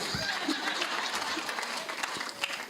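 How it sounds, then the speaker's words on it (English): Applause at the closing session of an international conference on girls' education, a fairly soft, even patter of clapping from a seated audience with faint murmurs and a few brief tones mixed in. "A big round of applause for Martha."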